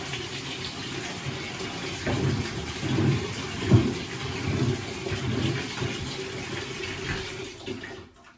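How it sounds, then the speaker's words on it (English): Water running steadily into a container holding frozen rats for thawing, a continuous close gushing pour lasting several seconds with small splashes before it cuts off at the end. "I just throw enough water in there to cover them up"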